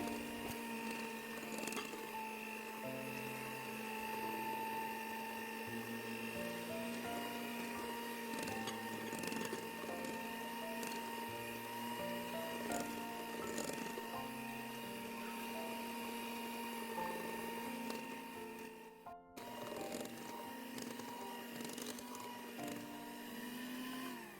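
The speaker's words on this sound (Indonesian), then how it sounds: "Adonannya sudah selesai di mixer" Electric mixer beating cake batter for a steamed sponge cake (bolu kukus), a steady, close motor whine that runs unbroken with slight pitch shifts and one brief dropout, no speech.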